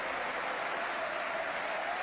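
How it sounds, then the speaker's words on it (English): Steady applause from a tennis crowd at the French Open, a dense, even wash of clapping that holds at moderate loudness without breaks. "Well-deserved applause."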